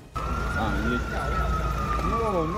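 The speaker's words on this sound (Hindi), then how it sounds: "इसके बाद पुलिस और दमकल विभाग की गाड़ियां वहां सायरन बजाते हुए पहुंच गई।" Police cars and fire engines arrive with sirens wailing at a burning car crash outside the Russian embassy, their rising and falling tones loud and continuous over steady traffic noise.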